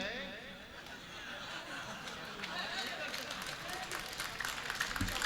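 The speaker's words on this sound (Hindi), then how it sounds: "अगर शुक्ला जी का जवाब आपका जवाब हो तो इसे तालियों में तब्दील करिएगा।" Audience applause at a Banaras poetry mushaira, a steady wash of clapping with scattered chuckles that holds for several seconds and swells slightly toward the end.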